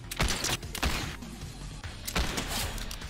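Repeater rifle fire in Fortnite: a handful of sharp, close shots crack out at uneven intervals, each a bright percussive burst over a low rumbling game background.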